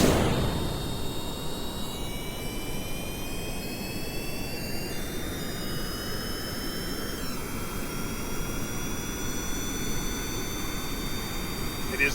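A rocket engine throttling up in Kerbal Space Program, a loud continuous roaring rush with whining tones that shift in pitch, sustained evenly for several seconds.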